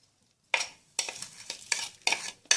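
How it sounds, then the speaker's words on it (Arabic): Minced meat is being mixed with cinnamon, salt, black pepper and ground breadcrumbs in a bowl, giving several squelching, scraping strokes in quick succession, close and fairly soft with no talk. "هنضيفهم على اللحمه المفرومه كده، وهنبدا نخلطهم كويس جدا"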